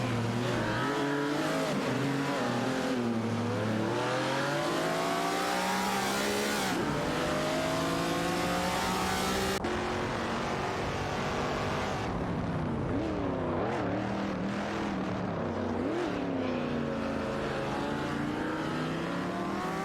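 Race cars in an AI racing game roar past one after another, their engines rising and falling in pitch as they accelerate and shift, loud and continuous for the whole stretch with no talking.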